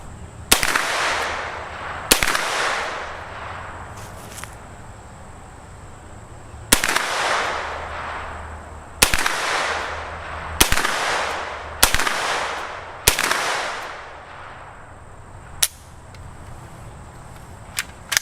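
Single shots from a B&T GHM9 9mm pistol caliber carbine ring out outdoors, about ten sharp loud cracks spaced a second or more apart, each followed by a brief echoing tail.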